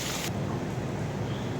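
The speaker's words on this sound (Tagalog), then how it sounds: "Sobrang lakas ng ulan sa labas" Heavy rain falls outside as a constant, dense hiss of downpour with no talking.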